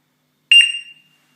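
A short electronic alert tone from an ECR pager beeper on its gezinti setting sounds once, a sharp bright beep of under half a second that quickly decays, heard alone with no talking.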